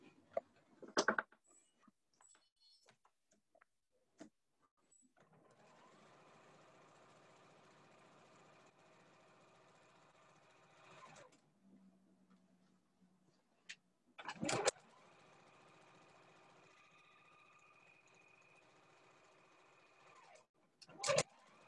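Sewing machine stitching a ribbon skirt, running in two sustained bursts of steady whirring with a soft low hum between them, separated by louder clunks of handling; quiet and close, with no talk.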